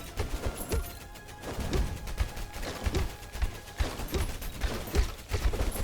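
A corpse explosion skill in the Tower of Babel: Survivors of Chaos video game sets off rapid, repeated bursts of crackling blasts in an irregular rhythm, clattering over a constant layer of game effects.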